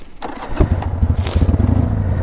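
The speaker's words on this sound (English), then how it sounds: "Just need to turn the bike on first." A motorcycle engine is started and settles into a low, loud rumbling idle, heard close up after a brief cranking burst with no talk over it.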